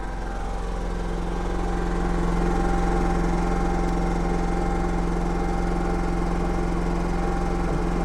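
A portable generator runs steadily right beside its exhaust port, a loud, close, constant engine drone with a low throbbing rumble and no break for the whole stretch.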